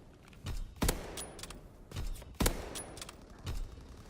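Lee Enfield rifle fire in a WWII video game, four sharp, well-spaced shots, each with a short mechanical rattle of the bolt after it, moderately quiet with no voices.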